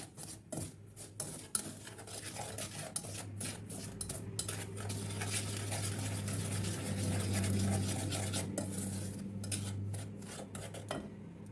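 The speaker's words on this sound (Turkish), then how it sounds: "Kuru malzemelerimizi iyice karıştıralım." A spoon stirs dry cake ingredients with packet vanilla in a bowl, giving scraping, clinking strokes against the sides over a low steady hum, with no talking.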